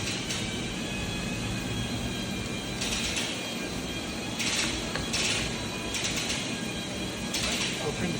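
A TRAK SWI DPM SX2P three-axis CNC bed mill from 2011 drives its axes in manual mode, giving a steady mechanical whine under continuous machine-shop hum, with repeated brief bursts of higher hiss as the table moves.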